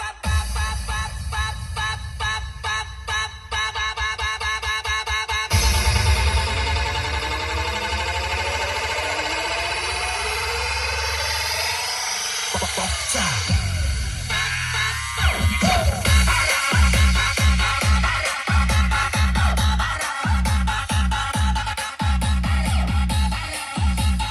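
Outdoor Bluetooth speaker with a 6.5-inch subwoofer, 3-inch midrange and 2-inch tweeter playing loud music, with dense bass and shifting tones, a sweeping passage, then punchy rhythmic beats.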